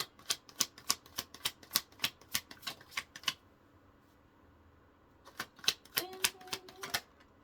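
Tarot card deck shuffled close up in quick rhythmic riffles, a run of sharp clicking card flutters, a short pause, then another burst of shuffling.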